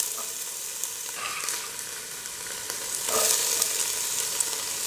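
Onions and garlic sautéing in a pan for a mung bean dish, a continuous hissing sizzle that swells louder partway through, with faint stirring and no talking.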